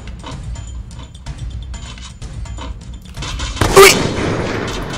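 Gunfire in the video game Free Fire, a run of soft rapid shots and mechanical clicks, then a louder burst of shots near the end, with no talking.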